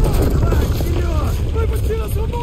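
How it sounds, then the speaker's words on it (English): An enemy helicopter hovers overhead in Call of Duty: Modern Warfare 3, a loud, steady rotor drone with a warbling whine running through continuous battle noise. "The enemy helo is overhead."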